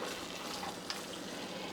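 Frozen peas and walnuts warming in a pan give off a steady, soft sizzle, a faint, even hiss that holds for the whole moment without pause.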